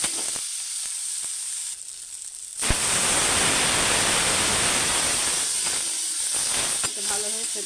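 Pieces of elephant foot yam fry in a pan for a chutney, giving a steady, loud sizzling hiss close by after a quieter opening, with faint clinks near the end.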